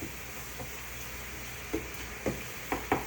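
Small-cut onions sizzle in a hot pan over high heat, a steady faint fry with a few brief louder stirring bursts.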